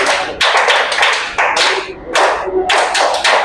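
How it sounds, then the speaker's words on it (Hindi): Children perform the scout guide clap in a class, a loud rhythmic sequence of sharp clap bursts in grouped patterns with brief pauses between them. "scout guide Tali"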